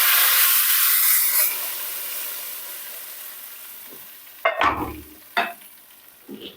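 Hot tempering of curry leaves and cumin fried golden, poured onto kadhi: a fading hiss and sizzle gives way to a few sharp bursts of spattering as the oil hits the curry, with quiet stirring between.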